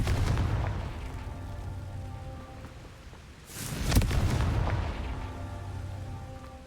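A Confringo fire spell blast goes off in the Hogwarts Legacy video game, a sudden booming burst around the middle that rises out of steady game ambience and music, then fades back under the continuing background.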